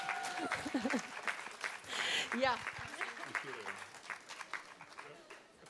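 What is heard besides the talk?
loud applause for a school at a ceremony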